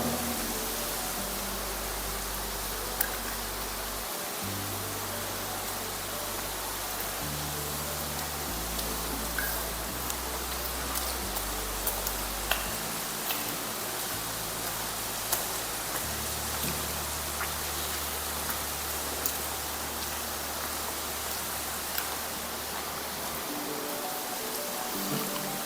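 Heavy rain falls steadily outdoors, a constant soft wash of hiss with faint scattered drip ticks and a low background hum, without any talking.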